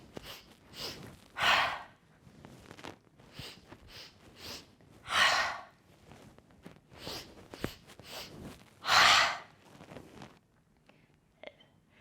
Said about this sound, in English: Inhaling center, inhaling out, inhaling center again, and then exhale, let it all out.